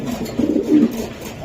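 A racing pigeon cooing close up, a low throaty warble in two or three rolling pulses over a quiet background.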